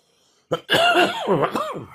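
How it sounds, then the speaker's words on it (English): A single rough cough followed by a throaty, gravelly throat-clearing, close and loud, then silence. "I'm still battling that cough, but it's getting better."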